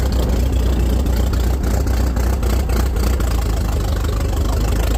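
A 1912 Continental race car engine runs steadily and loud at close range, a dense low rumble with a rough, knocking edge throughout and no talk.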